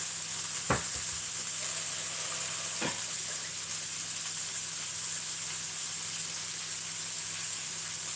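A meat patty and chips fry together in a pan for a homemade burger, giving a constant bright sizzling hiss. Two brief knocks of the pan or utensil come near the start.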